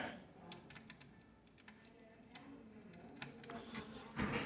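Quiet, scattered clicks of typing on a computer keyboard attached to a tiny Ryzen 3950X gaming PC, irregular keystrokes at close range over a faint room hum.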